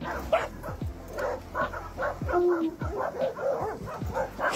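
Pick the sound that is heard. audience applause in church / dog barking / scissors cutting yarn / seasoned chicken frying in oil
dog barking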